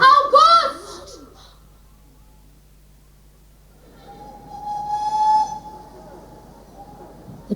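A train, with a long steady whistle sounding under rumbling rail noise that swells and fades, heard after a stretch of talk and quiet.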